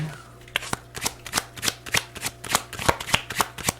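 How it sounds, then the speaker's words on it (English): A tarot deck is shuffled by hand in a rapid series of crisp riffling snaps and soft slaps, about a dozen bursts in quick irregular rhythm, close and clear with no talking. "Did I mention I'm going to pull from my tarot teacher deck?"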